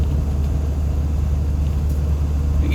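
A car rumbles steadily along a bumpy dirt road, a close, continuous low engine drone with rough-surface noise and no talking.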